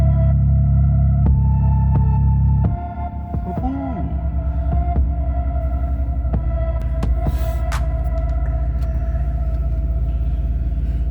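BMW M3 F80 engine idling just after start-up, a loud low throbbing rumble that drops from a heavy initial drone to a steadier idle, with faint clicks and whirs over the continuous hum.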